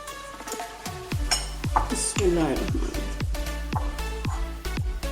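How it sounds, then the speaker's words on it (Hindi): Boiled potatoes go into a bowl for mixing, with a series of close, ringing metallic clinks and clanks from a spoon against the bowl, repeating at an uneven rhythm. "चलिए अब सब चीज़ों को बाउल में डाल के मिक्स करते हैं। सबसे पहले डालने हैं आलू जो बॉईल करके हमने रखे हुए थे।"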